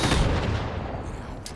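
Frag grenade blasts in Fallout 76 land as a dense burst of rumbling booms, loud and close, with a sharp crack right at the end.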